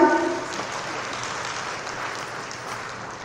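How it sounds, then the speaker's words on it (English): Audience applause at a university World Intellectual Property Day event, a steady wash of clapping filling the whole stretch at moderate level, slightly louder at the start. "Can you please give him a round of applause one more time?"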